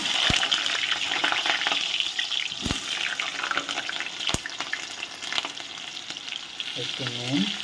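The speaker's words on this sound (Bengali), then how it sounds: "তেলটা গরম হয়ে গেছে, এবার আমি কেটে রাখা আলুগুলো দিয়ে দিচ্ছি।" Cut potatoes dropped into hot mustard oil set off a loud, dense crackling sizzle with sharp clanks of utensils, and a brief tonal squeal sounds near the end.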